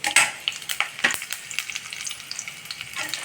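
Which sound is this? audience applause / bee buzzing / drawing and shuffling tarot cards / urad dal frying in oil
urad dal frying in oil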